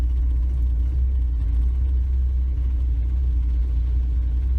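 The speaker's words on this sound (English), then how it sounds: "It idles at about 600 RPM." A 1966 Ford Mustang's straight six engine idles steadily at about 600 RPM, a deep, constant low rumble that stays close and even throughout with no other sounds.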